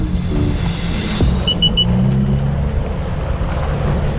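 Jet ski riding out among boats near Miami, a steady loud engine and water rush throughout with brief high whines, no talk.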